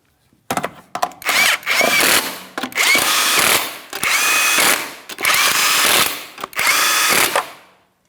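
An impact tool tightens the five lug nuts on a 2007-2014 Ford Edge front wheel in a crisscross pattern, giving six loud, close bursts of whirring and rattling of roughly a second each, separated by short pauses.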